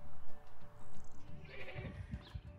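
Sheep on a farm bleat in a series of wavering cries, fairly close, with rustling and shuffling noises layered underneath toward the end.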